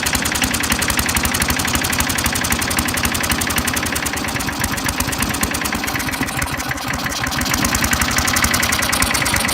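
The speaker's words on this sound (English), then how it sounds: "See how low we can get this baby to idle." A Geet lawn mower engine idles low and steady on its own, a fast even rapid-fire chugging that stays loud and close throughout, with no talking.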